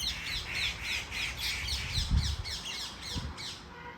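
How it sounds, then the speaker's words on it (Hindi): A flock of parrots at a farmhouse squawks in a rapid, repeated run of harsh, loud calls that rise and fall over a low outdoor rumble, with no talking. "ये नेचुरल आवाज़ है, आपको नेचुरल आवाज़ सुना रहा हूँ पक्षियों की।"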